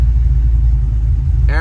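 A car engine with a Sniper EFI setup idles with both cooling fans running, a loud, steady low rumble and whir, with a voice starting briefly at the end.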